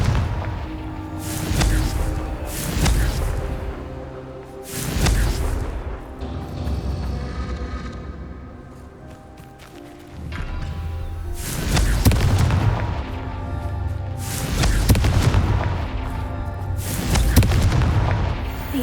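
Confringo blast spells exploding in the Hogwarts Legacy video game during a Merlin trial, a series of heavy booming detonations with rumbling tails, about eight loud blasts spaced irregularly, with no talk.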